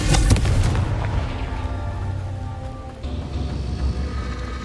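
A Confringo fire blast spell in Hogwarts Legacy goes off with a sharp booming explosion at the start, followed by a rumbling, crackling tail and lingering game ambience, no talking.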